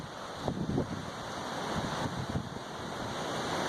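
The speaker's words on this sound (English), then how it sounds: "The wind's picking up." Hurricane Matthew's wind blows past a 14th-floor vantage point near Orlando, a constant roaring rush with soft gusts that slowly builds in strength.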